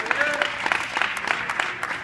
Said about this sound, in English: Everybody give Sam Hill a round of applause.